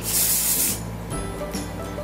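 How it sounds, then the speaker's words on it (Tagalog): Cologne sprays from an atomizer onto hair in a long, loud hissing burst, followed by quieter handling sounds and a faint second puff. "magpapabango na lang kayo cologne sa hair"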